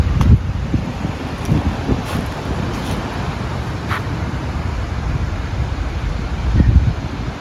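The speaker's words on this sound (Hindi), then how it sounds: "इतनी ठंडी हवा चल रही है" Cool wind blows at a beach, a steady rushing buffet of noise with gusts, loud and close to the microphone, with faint passing traffic underneath and no talking.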